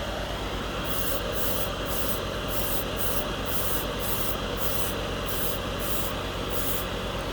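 An airbrush sprays thinned Revell enamel paint in a steady, close hiss, with a rhythmic pulsing pattern as a heavier coat goes on a scale model, and no voices.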